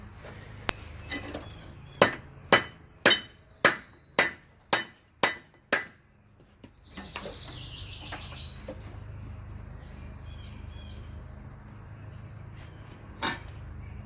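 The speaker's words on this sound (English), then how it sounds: "I'm going to take a rubber mallet and just tap on that." A rubber mallet knocks a wheel bearing assembly off the front axle of a Polaris 850 ATV: about ten sharp, evenly spaced taps, close and loud, then quiet shop background with faint birdsong.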